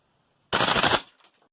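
A Tokyo Marui Type 89 gas blowback airsoft rifle fitted with a heavy recoil kit fires one short full-auto burst of rapid cracks lasting about half a second, then the clatter fades out.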